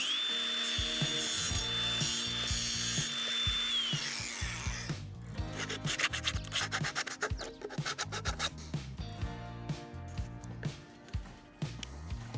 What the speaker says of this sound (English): Now I'm just going to sand them before I put on the next new pipes